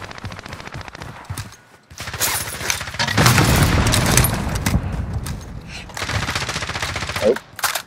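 Gunfire in Call of Duty: Modern Warfare, heavy automatic bursts and booming blasts that build to a loud, sustained peak midway, then trail off into scattered shots.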